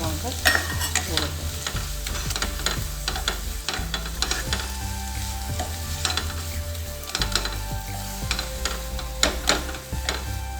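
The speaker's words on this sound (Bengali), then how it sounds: "এবার মশলা ভাজা হয়ে গেছে। এবার আমি দিয়ে দেবো বড় লঙ্কা ও শুকনো লঙ্কা গুঁড়ো।" Fried spices in a pan for Bengali shukto, with green chillies and chilli powder going in, giving a steady crackling sizzle broken by the clatter of a stirring spoon, close up with no voices.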